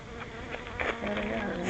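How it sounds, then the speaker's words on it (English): Honey bees buzz close around a beekeeper at the hives, a continuous droning hum with individual insects passing near. "there's bees around me"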